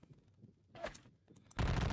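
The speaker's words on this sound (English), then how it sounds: "Take a little bit of gunfire to my side" Musket gunfire from a Jena campaign wargame set in the Napoleonic era, heard as a few scattered shots that build into a loud, dense volley at the end.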